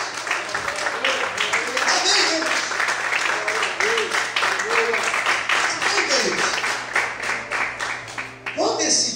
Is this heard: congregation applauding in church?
yes